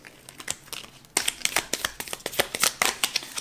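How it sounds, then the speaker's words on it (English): Tarot cards being shuffled by hand: a soft riffling hiss, then a denser run of quick, crisp card slaps and flutters close up, with no talking. "One more shuffle"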